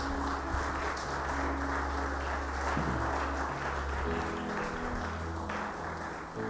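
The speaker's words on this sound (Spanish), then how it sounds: "Dale un fuerte aplauso al Señor." A church congregation claps during a sermon, sustained dense applause that stays loud and even, with low sustained tones from music or an organ running under it.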